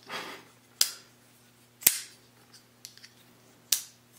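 A folding knife blade flicks open and snaps shut in three sharp, loud clicks spaced about a second apart, with a couple of faint small clicks between them and no talk.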